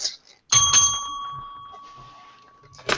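A single bright ding of a small bell rings out close and clear, then decays slowly over a couple of seconds, with brief rustling noise before and after.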